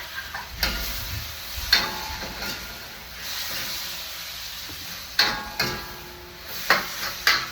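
Food frying in a pan sizzles steadily while a utensil stirs and scrapes it in repeated short strokes, close and moderately loud.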